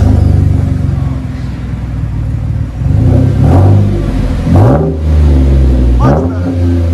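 A Chevy Silverado with a 4.3L V6 and a 4-inch black-tip exhaust revs up repeatedly, several rising throttle blips swelling over a steady deep idle rumble, loud and close.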